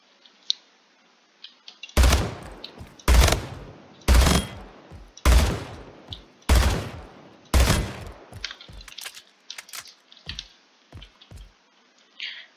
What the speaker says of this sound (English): Right, we got a pistol. The pistol is also fully automatic.